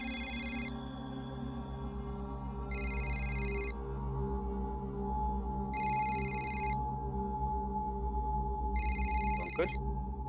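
A telephone on speakerphone rings in a home, four evenly spaced electronic bursts separated by short gaps over a low background hum.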